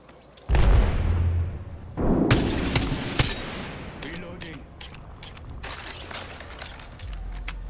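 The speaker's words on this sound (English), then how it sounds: "Throwing Arc Star. Grenade out." An Arc Star electric grenade going off in Apex Legends, a loud burst followed by crackling and mechanical clanks and scattered sharp impacts that gradually thin out.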